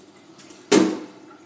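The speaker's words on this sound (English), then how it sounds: "Watch the water go down." Water drains from a household kitchen sink after dishwashing, a sudden gurgling gush that rises sharply after a quiet moment and then tapers off. It is close, short and heard alone.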